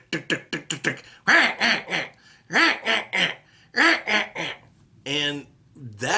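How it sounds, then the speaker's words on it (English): A hand-blown duck call runs through a fast feed chuckle of rapid staccato clucks, then several loud, drawn-out quacks, close and alone, finishing on a descending quack run. "you break it down into a feed chuckle with a couple of quacks"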